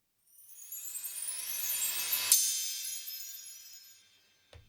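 A rising riser sweep in a sad pop trap beat made in FL Studio builds for about two seconds, peaks with a bright hit, then fades away; a short low thump lands at the end.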